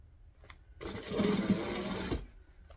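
A sewing machine runs in a short burst of about a second while stitching piping onto a bag, a close, rapid mechanical whir set between quieter handling noises.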